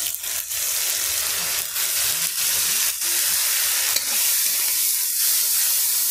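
Tomato with salt, chilli, cumin and ginger sautés in a pan outdoors, a steady close sizzle with brief stirring scrapes and taps, no one speaking.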